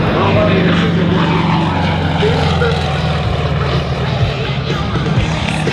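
Yak-55M aerobatic plane in flight, its engine droning loud and steady from an onboard position throughout, with a slight rise and fall as it manoeuvres.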